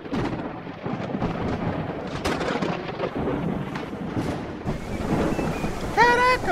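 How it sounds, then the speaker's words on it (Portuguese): Thunderstorm in the survival video game No One Survived, with a steady roar of rain and rolling thunder rumbles throughout, loud and continuous, and a brief bright electronic tone near the end. "Acordamos debaixo do temporal, velho."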